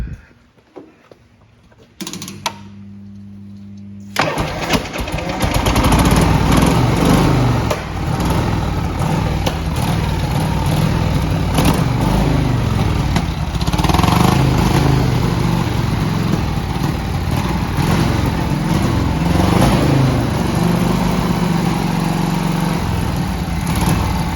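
A 1979 Harley-Davidson 1200cc FLH Electra Glide with a leaking carburettor cranks over briefly, then fires and settles into a loud, close, uneven idle with spluttering, rough beats throughout.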